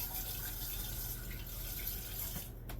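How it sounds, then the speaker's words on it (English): Water from a kitchen tap runs steadily as hands are rinsed under it during cabbage casserole prep, a close, continuous splashing rush with no talking. "Let me give my hand a quick wash."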